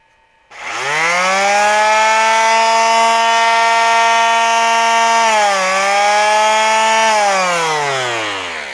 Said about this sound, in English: So it will run a palm sander.